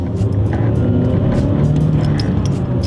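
A turbocharged 2015 Chevy Cruze's engine roars loudly and continuously as it accelerates hard, a gritty close-up drone with no talking.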